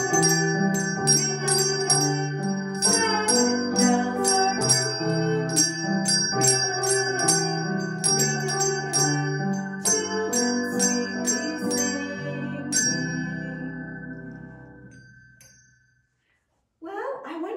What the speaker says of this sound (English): Are you ready to ring your Sabbath bell with us this morning and welcome the Sabbath day?